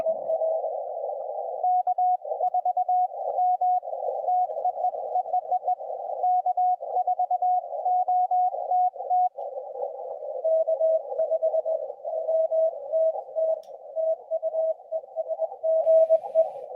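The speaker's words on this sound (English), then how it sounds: "Sounds better on CW than it did on sideband." Morse code tones on a ham radio, a single steady pitch keyed rapidly on and off in long unbroken runs of dots and dashes.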